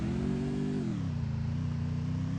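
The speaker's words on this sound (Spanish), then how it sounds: "Voy a coger la moto para ir con más estilo" A motorcycle engine in the Free Fire video game revs loud and close. The pitch drops after the first second and then settles into a steady idle drone.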